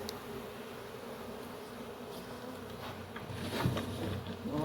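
Honey bee swarm being moved into a hive box, a dense steady buzz of many bees close by, fairly quiet and alone, swelling slightly toward the end.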